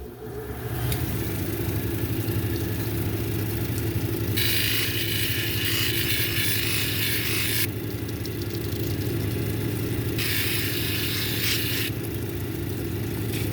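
A cabochon polishing machine runs steadily with a 600 grit disc on Summerville lace agate, a constant motor hum, with two stretches of louder high grinding hiss as the stone is pressed to the disc.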